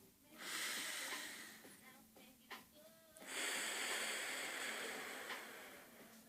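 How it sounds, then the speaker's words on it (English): Two long, deep breaths drawn close to the microphone, each a steady airy rush lasting a couple of seconds with a short pause between, no talking. "breathe deep"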